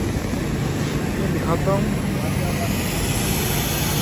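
A Hyundai i20 engine runs with a steady, loud broadband roar, with someone briefly speaking over it.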